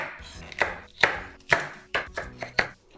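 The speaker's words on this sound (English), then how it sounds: "I'm gonna try to cut the celery about in the same size" Knife chopping celery on a cutting board during home cooking of miso side dishes, with about seven crisp, evenly spaced cuts, close and clear with no talk.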